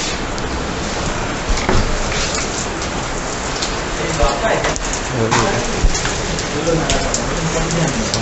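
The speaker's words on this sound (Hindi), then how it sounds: "बारिश की मज़ा ले लें 5 मिनट।" Steady rain falls and patters on surfaces nearby in Delhi, a continuous hiss with occasional louder drips.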